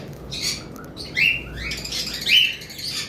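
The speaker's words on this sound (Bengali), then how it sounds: "আমাদের কাছে আরও পাইনাপেল ইয়েলো সাইডেডও রয়েছে আমাদের কাছে, এই যে দেখতে পাচ্ছেন, ইয়েলো সাইডেড কোনোর বলা হয়।" Pineapple and yellow-sided conures on a bird farm give a few short, sharp chirps over a steady low background hiss, close by and fairly clear.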